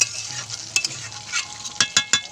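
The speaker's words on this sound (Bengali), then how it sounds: "চিকেন দিয়ে নাড়াচাড়া করে ভালো করে নাড়িয়ে চাড়িয়ে কষিয়ে নেবো" Chicken stir-fried with spices in a pan, with a steady sizzle and repeated sharp spatula scrapes and knocks that cluster toward the end.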